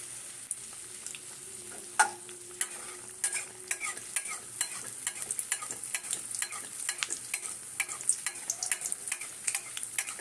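Pitha frying in oil in a kadai over low gas, a steady light sizzle dotted with many quick pops and crackles and the occasional scrape of a spatula, close and moderately quiet, no speech.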